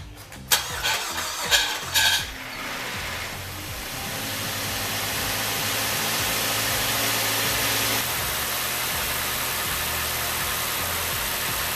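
A Mazda 3 engine, newly installed, cranks with a few uneven bursts, catches, and settles into a loud, steady idle that continues to the end.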